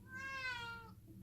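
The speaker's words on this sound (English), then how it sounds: "sorry, that's the cat." A house cat meows once while holding a toy in her mouth, giving a single muffled, drawn-out call at moderate-to-faint level over a quiet room.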